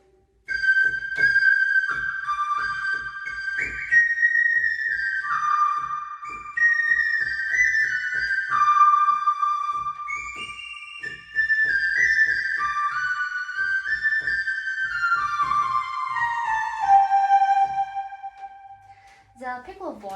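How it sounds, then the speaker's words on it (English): An electronic keyboard set to its piccolo voice plays a northern Chinese melody, a bright, high, whistle-like single line of held and stepping notes that drifts steadily downward over about twenty seconds, played alone with no talking. "I would like to show the melody pieces in the piccolo voice."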